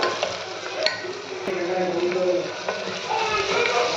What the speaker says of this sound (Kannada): 1 ನಿಮಿಷ ನೀಟಾಗಿ ಈ ಥರ ಫ್ರೈ ಮಾಡಿಕೊಂಡು